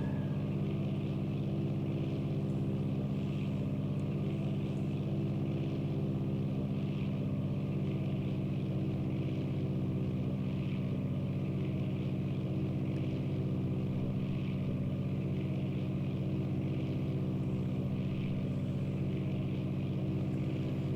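Aircraft engine droning in a flight simulator video game, a steady low hum with a sustained propeller-like tone, constant and moderately quiet throughout with no talk.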